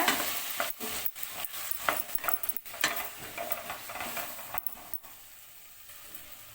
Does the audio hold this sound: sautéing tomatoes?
yes